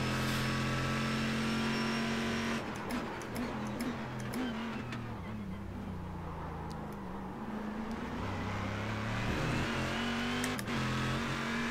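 Corvette C6R GT1 race car in iRacing at Sebring International Raceway, its engine droning steadily and loudly with harmonic whine, easing off midway and climbing again as revs change, heard alone without talk.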